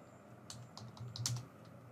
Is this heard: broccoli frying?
no